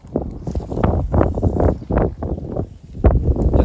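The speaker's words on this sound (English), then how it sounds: "It's really windy out here." Gusty wind buffets the microphone outdoors beside a creek by a corn field. The low, rough rumbles swell and fade in uneven surges, loud and close, with no other sound standing out.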